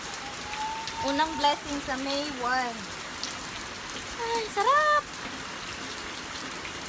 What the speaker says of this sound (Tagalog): thank you Lord for this rain.